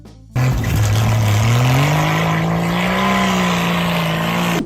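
A 1981 AMC Eagle Sundancer engine revs loudly and steadily, its pitch climbing slowly and holding high for several seconds after a sudden start. It is heard alone, with no talk over it.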